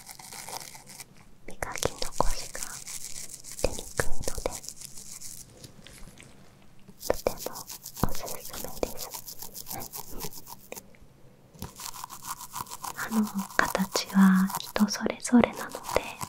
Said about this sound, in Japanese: 歯ブラシで磨いた後に このタフトブラシでさらに仕上げてあげると